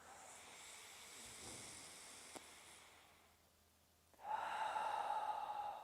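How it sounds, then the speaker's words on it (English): A Pilates breathing exercise, a soft, close exhale that fades away, a brief quiet pause, then a louder, breathy inhale. "I'm going to take a breath out."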